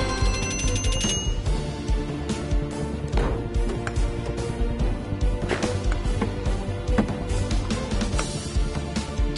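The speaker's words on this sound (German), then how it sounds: "das ist der Timer." Countdown timer in the VR shooting game Gun Club VR, heard as a steady run of bright, ringing alarm-like tones that carries on throughout amid busy clattering game sounds.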